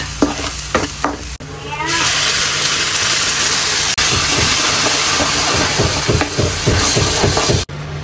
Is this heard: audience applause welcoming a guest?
no